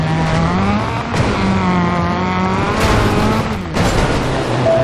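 Car accelerating hard in Driver: San Francisco, engine revving up through several gear shifts with rising whine, loud and close, with brief tire noise and no talking.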